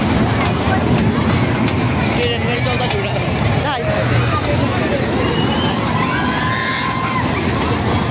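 A small toy or fairground train runs at a Saraswati Puja fair, a continuous rumbling roll under dense crowd chatter and babble throughout, close and loud.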